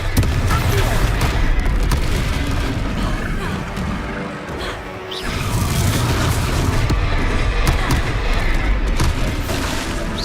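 Confringo blasting spell going off in Hogwarts Legacy, a loud, dense crashing boom during a magical battle, sustained rumbling explosions with a brief dip midway, over busy combat noise.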